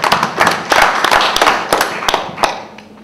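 A small audience at a pub quiz gives a round of applause, with brisk uneven clapping close by that fades toward the end, and no talk.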